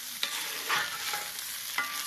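Chorizo and ground meat brown in a pan, with a steady, close sizzle and light scraping as the meat is stirred and crumbled.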